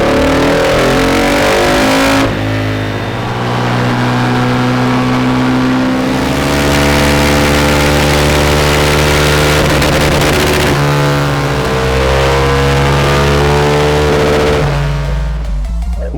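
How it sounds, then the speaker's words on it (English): A Husqvarna 701 supermoto single-cylinder engine revs hard on a dyno, loud and close, with rising and falling pitch across several sustained pulls and no talking. "we'll get it run up on the dyno first, see what it's doing, see how it's fueling"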